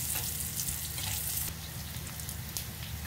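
Mala paste sautéing in a pan makes a steady, continuous sizzle and crackle of hot oil, moderately close, with no talking.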